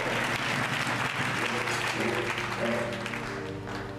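A church congregation applauds steadily with dense, sustained clapping, joined by a musical drone and rising tones underneath, with voices faintly mixed in.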